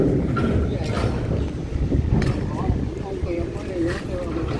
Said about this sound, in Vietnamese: Có một ghe đấy cũng đang về kìa